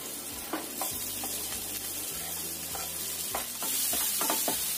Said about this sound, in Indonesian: Ini sekitar 2 sendok makan aja minyaknya untuk menumis bawang putih.